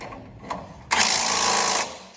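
A ratchet tightens a bolt on a Ridetech bolt-in 4-link rear suspension on a 1967–69 Camaro, a short faint click followed by a close, steady buzzing run of about one second.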